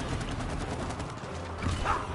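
Video game gunfire rattles on continuously as a dense, steady barrage at fairly close range, with no talk over it.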